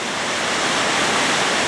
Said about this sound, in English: And end up falling right down there into the Suiattle River.